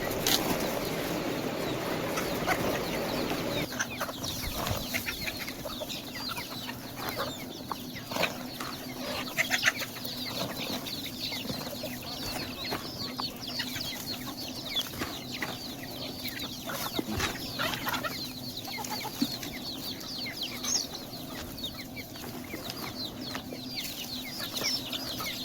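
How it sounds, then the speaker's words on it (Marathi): Chickens cluck and shuffle as they crowd in to eat finely chopped onion scattered for them, a steady busy flock murmur with scattered wing flaps and clucks throughout, close by, with no talk. "बघू शकताय तुम्ही कोंबड्या कसं गर्दी करतात कांदा खाण्यासाठी"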